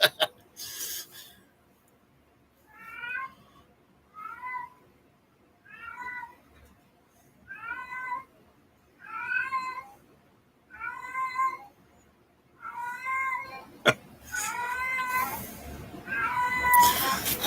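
A cat meows repeatedly indoors, about nine drawn-out complaining calls spaced a second or so apart, close and clear, with the last few louder over brief rustling.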